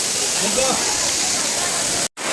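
A waterfall on a trek near the Kondhane caves and Rajmachi gives a loud, constant, close rush of falling water, with a faint voice underneath and a sudden brief dropout near the end.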